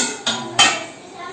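A large pot of rice for chicken biryani is stirred, giving two sharp metallic knocks of a utensil against the pot followed by a fading ring, close and fairly loud.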